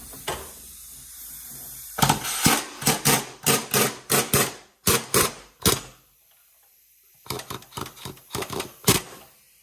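An impact gun hammers at a motor mount bolt on a GMC Envoy, firing in a string of sharp, loud bursts with brief gaps, going quiet for a moment and then resuming with a few more rattling hits.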